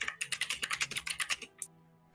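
Fast, crisp clicking of a computer keyboard, a quick run of about fifteen keystrokes close by, then a final tap and quiet.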